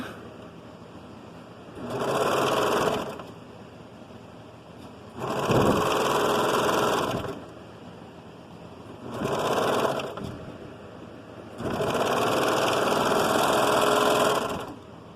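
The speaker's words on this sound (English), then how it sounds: "So then you sew the front and back, or the side seams to each other." Sewing machine stitching the side seams of children's overalls, running in four loud bursts of steady whirring, each lasting about one to three seconds, separated by short pauses with no talk.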